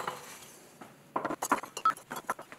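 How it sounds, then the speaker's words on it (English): Small kiln-fired ceramic miniature mugs clink and clank against each other in a quick irregular series of bright, close knocks. "The pots also sound different as they're clanked together."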